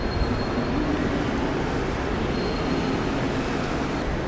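A steady, loud rumble of a double-deck Airport Express train in motion in Berlin, heard from the upper level inside, with constant rolling noise and no talking.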